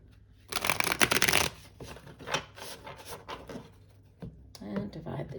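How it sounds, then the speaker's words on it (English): Nearby, a deck of tarot cards is shuffled in quick riffling bursts with soft papery rubbing, loudest early and then resuming in short spurts, while someone talks quietly alongside. "Okay, I'm going to do one last shuffle"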